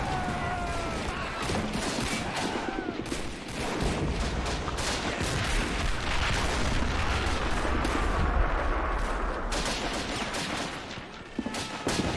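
Dense, sustained gunfire from the Great Plastic War mod of Army Men, with rapid overlapping shots and heavy volleys rolling nonstop through a WW1 trench defence battle, loud and close throughout.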